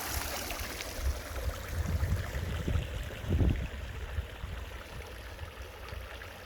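A swimming pool filter runs continuously, with water flowing and splashing as a steady, soft rushing that swells slightly around the middle and carries on without voices.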